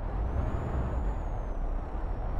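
Truck air brakes in Euro Truck Simulator 2 give a sustained, loud hissing rush of released air over a low engine rumble, with a faint thin whine running through it.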